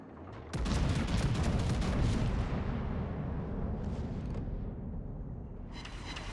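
Heavy naval guns firing armor-piercing shells in World of Warships from an Iwami battleship, a sudden loud booming salvo that rolls on in a long rumbling decay with crackling bursts, no voices over it.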